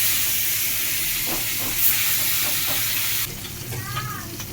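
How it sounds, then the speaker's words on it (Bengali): Koi fish fries in hot oil, sizzling steadily and loudly, with a few clinks of a utensil stirring near the end. "এখন ফিশটা ফ্রাই করবো।"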